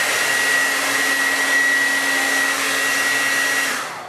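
A hair dryer blasts steadily at close range during a simple at-home blowout, a continuous loud whooshing whine with a faint tonal hum that holds for about four seconds before cutting off.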